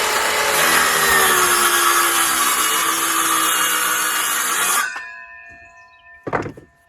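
A power saw cutting through wood for a Langstroth beehive build, a loud steady whine for nearly five seconds that stops abruptly, followed by a ringing spin-down and a single wooden thunk.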